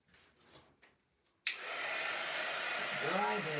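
A hair dryer switches on abruptly after some quiet handling noises and blows steadily and loudly over a painted Christmas craft project, with a slight wavering pitch as it moves.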